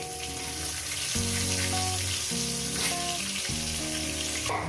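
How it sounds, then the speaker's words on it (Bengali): Potatoes frying in a pan with a little turmeric, a steady loud sizzle running throughout, with tonal kitchen hum and faint clatter underneath. "আলুগুলো আমি ভেজে নিয়েছি"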